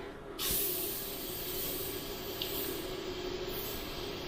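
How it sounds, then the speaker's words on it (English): A Sagola Xtech 400 airbrush sprays paint with its cup angled back, a steady, close, airy hiss that starts abruptly and holds evenly, with no talk. "Still sprays nice with the cup angled back."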